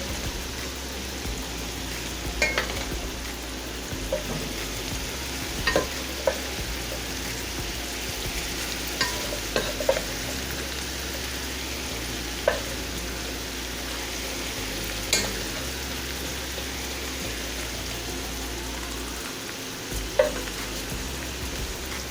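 Herb potatoes fry in a skillet, with a steady loud sizzle running throughout and occasional clinks and scrapes as the potatoes are stirred and spread out. No one speaks.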